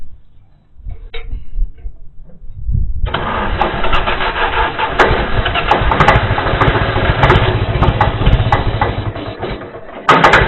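An 830 tractor engine cranks briefly and then catches, settling into a loud, steady low rumble with mechanical clatter that runs to the end, heard up close with no talk.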